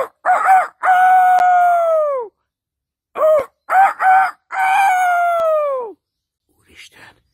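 A voice mimics a rooster crowing, giving two loud, close cock-a-doodle-doo calls, each opening with short clipped notes and ending in a long falling wail. A faint brief sound follows at the end.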